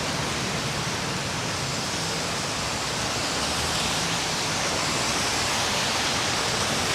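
Rainwater from Tropical Storm Henri pours off scaffolding on a New York City street, a dense, continuous rushing hiss that stays loud and even throughout, with no voices.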